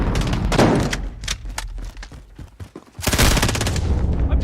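Heavy gunfire in a video game firefight: dense, loud bursts of rapid automatic shots, a short lull of scattered single cracks, then another sustained volley.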